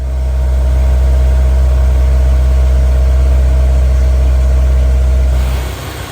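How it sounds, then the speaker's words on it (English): A Honda S2000 CR, sitting unused for ten years, runs with its factory exhaust, holding a loud, steady droning engine note with a strong low rumble, then easing off near the end, with no voices. "now it's got a factory exhaust system. Sounds so much better"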